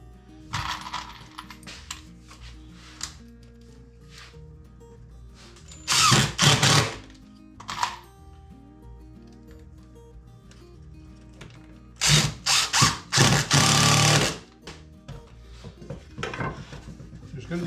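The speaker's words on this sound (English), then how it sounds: "So I'm going to put a couple of pilot holes in here and secure that on there." A drill bores pilot holes to fix a unit in place: two loud, rising bursts of drilling stand out between softer clattering and handling of tools and parts.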